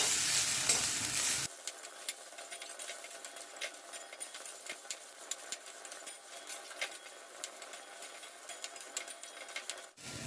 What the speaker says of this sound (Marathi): हे अगदी चांगलं भाजून घ्यायचं